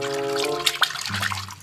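Water splashes and trickles as toy animals are washed, a steady wet rush broken by a couple of quick splashy knocks, close and fairly loud, with no talk.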